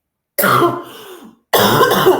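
Two harsh, close coughs from someone ill and on antibiotics, separated by a short pause, each a raspy burst lasting under a second.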